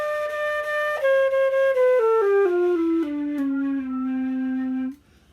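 A flute plays a clear descending run of sustained notes, stepping down evenly before settling on one long low tone that stops abruptly; close and alone.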